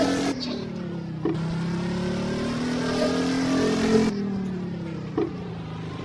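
Engine of a Tofaş Şahin car in a self-made video game, a steady droning rev that rises and falls over several seconds, with gear-change breaks and no talk.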